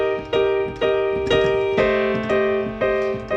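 Piano playing the first two chords of a song, several struck chords in a steady rhythm, close and clear, each ringing and decaying before the next.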